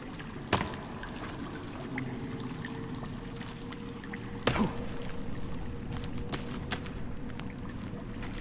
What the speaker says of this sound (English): when you hear the water, you know you're going the right direction